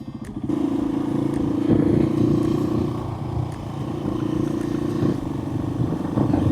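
A KTM 690 SMC R motorcycle engine rumbles steadily nearby with a throaty idle and occasional clattering, continuous throughout.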